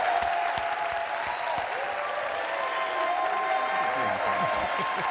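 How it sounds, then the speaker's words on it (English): Steady applause from an audience for a guest historian at a Queens community event, dense and continuous clapping at moderate loudness, with faint murmuring voices mixed underneath throughout. "Let's give him a round of applause."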